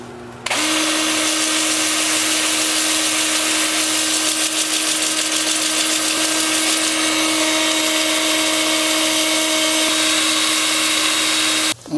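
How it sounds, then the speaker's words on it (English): Wood lathe spinning in reverse at 350 RPM while green wood is sanded, a steady close motor whine with a constant tonal hum and light scratchy texture running unbroken for about eleven seconds. "Lathe is spinning in reverse at 350 RPM."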